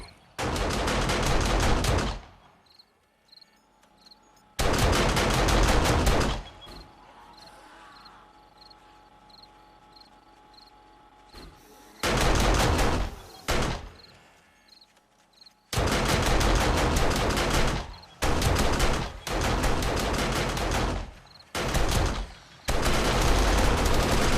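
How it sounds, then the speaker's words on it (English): Automatic turrets in the 7 Days to Die video game fire in loud rapid bursts, several long volleys of machine-gun fire separated by quieter gaps with distant clatter, close and dominant throughout. "Turrets pretty much take care of everything."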